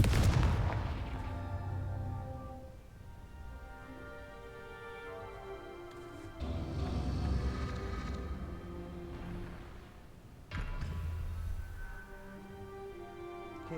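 Booming explosions from the Confringo fire spell in Hogwarts Legacy, a heavy blast at the start followed by two more muffled detonations later, each with a rumbling decay under a background music bed.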